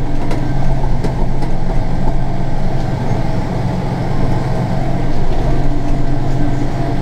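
Steady loud drone of a Kubota tractor driving while hay silage is being worked, a continuous rumbling engine and cab noise heard close from the driver's seat.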